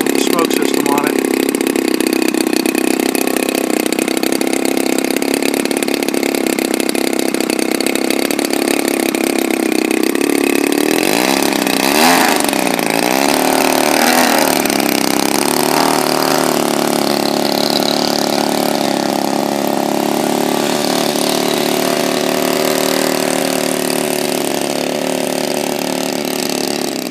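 A DLE 35 gas engine powering a Balsa USA Smoothie XL model plane fitted with a smoke system drones steadily and loudly throughout, with a brief wavering pitch change midway as it runs up, and a voice speaking over it.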